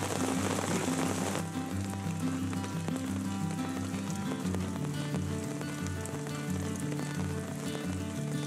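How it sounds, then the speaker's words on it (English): Rain falls steadily on a campsite in Big Sur, a dense patter on surfaces that is loudest in the first moments and then continues evenly beneath faint tonal sounds. "Still raining."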